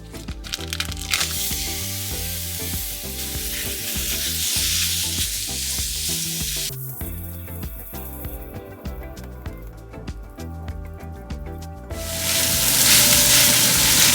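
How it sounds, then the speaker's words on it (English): Ground pork sautéing in its own rendered fat in a pan, a steady close sizzle with rhythmic scraping and stirring strokes, growing louder and hissier toward the end. "So we're going to set this aside so we can saute our ground pork."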